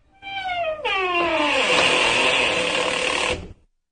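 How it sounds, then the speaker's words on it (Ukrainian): A long, drawn-out creak slides down in pitch, then turns into a raspy groan before stopping abruptly after about three seconds, heard alone. "Скрипнули двері."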